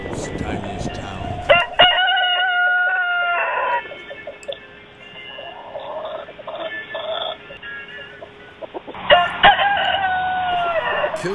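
A rooster crows loudly twice, each call a strained, rising cock-a-doodle-doo, with softer clucks and a steady background hum in between, and no other sounds standing out.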